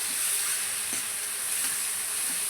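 Tomatoes sauté in a pan for Gongura chicken, giving a steady, close hiss of sizzling with a few faint stirring scrapes.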